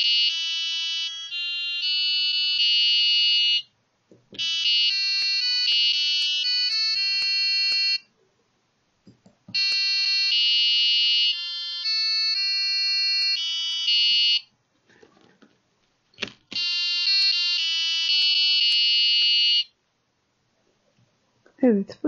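A micro:bit buzzer beeps out the Turkish Vatan Marşı melody in thin, piercing electronic tones, four phrases separated by short pauses with faint handling clicks between them.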